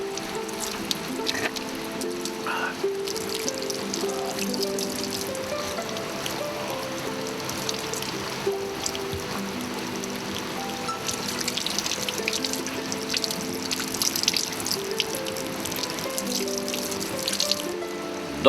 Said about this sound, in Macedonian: напите се вода од природната изворска чешма, Амаловска чешма